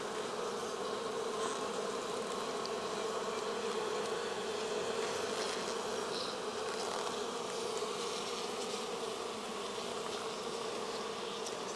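Honey bees buzzing inside an opened upper brood box of a beehive, a dense continuous drone of many insects, close and even for the whole stretch.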